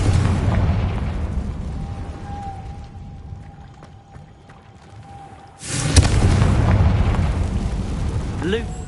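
A Confringo blasting spell goes off: after a quiet stretch with a thin steady hum, a sudden loud burst erupts midway and rolls into a sustained, roaring rumble to the end.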